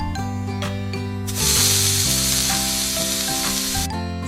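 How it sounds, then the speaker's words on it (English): A hot frying pan set onto a wet towel lets out a sudden loud hiss that holds for about two seconds and then stops abruptly, with background music playing throughout. "フライパンを濡れ布巾の上に置きます。 Put the pan on a wet towel。"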